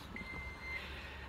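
A single thin electronic beep from a 2015 Toyota Prius reverse warning, heard once over a low rumbling background.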